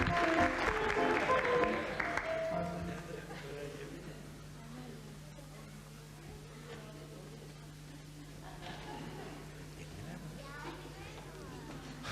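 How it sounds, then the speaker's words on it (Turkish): Applause from a studio audience at the close of a televised children's talent contest, strongest in the first few seconds and then thinning into a steady hum and scattered noise. "Son bir alkış."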